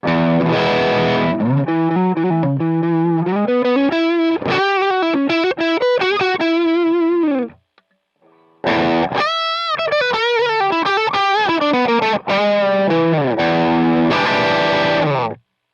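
Heavily distorted electric guitar plays through an amplifier, close-miked at the speaker front with a Shure SM57. Loud sustained chords and riffs run in two phrases separated by a brief silent gap.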